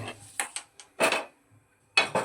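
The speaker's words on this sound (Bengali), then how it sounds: "আর একটা ফ্রাইং প্যান বসিয়ে নিয়েছি" A few sharp metallic clanks and scrapes of a frying pan being set down on a lit gas stove for making uttapam, spaced out with brief quiet gaps.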